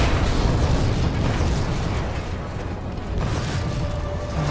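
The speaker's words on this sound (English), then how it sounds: "Oh. Explosion." A deep, rumbling explosion in Resident Evil 2 Remake, a loud, broadband blast with a low boom that lingers as a dense roar for several seconds.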